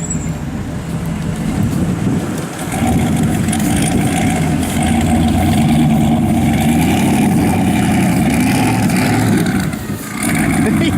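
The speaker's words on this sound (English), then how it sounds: "Got Touareg running." Turbocharged Volkswagen Touareg engine running steadily at close range, a loud sustained rumble that swells slightly for several seconds before briefly dipping near the end, with no talk over it.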